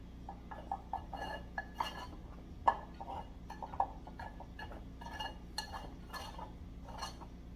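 Salt is stirred into shredded jackfruit in a bowl, giving a series of light clinks and taps of a utensil against the bowl, irregular and fairly close, over a low steady background hum without speech.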